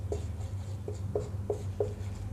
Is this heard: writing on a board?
yes